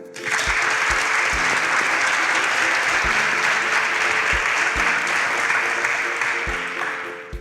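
An audience applauds quiz contestants with dense, steady clapping that carries at full volume for the whole stretch before easing slightly at the end.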